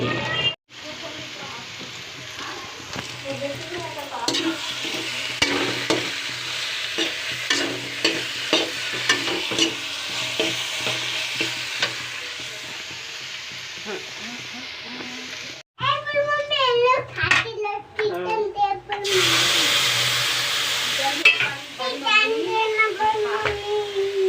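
A garlic and coriander paste, ground on a grinding stone, fries and is stirred in a pan with steady sizzling and scraping, a voice talking over it, then a louder, brighter frying burst near the end.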